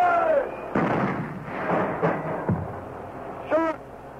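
Artillery fire in a radio drama: several heavy booming blasts land through the clip, with a whistling sweep near the start and another near the end.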